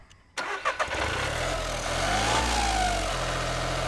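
A 2013 VW Polo 1.2 TDI engine cranks and catches after a brief quiet moment, then settles into a loud, steady idle with a slight rev in the middle. The car has a fault that makes it stall after starting.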